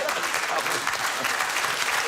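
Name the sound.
studio audience clapping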